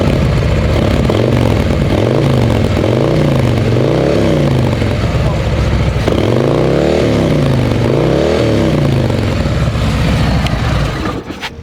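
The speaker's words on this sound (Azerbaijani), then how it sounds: "Amma indi biraz qaz verək, görək nə göstər, gəl." A sport motorcycle engine is revved up close in repeated rising and falling throttle blips over a rough idle, loud throughout and fading slightly at the very end.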